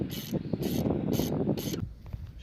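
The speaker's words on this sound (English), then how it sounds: "Those are usually a 19mm socket." A ratchet wrench with a 19mm socket loosens a nut on a vehicle, four quick rapid clicking bursts up close, then a pause with faint mechanical noise.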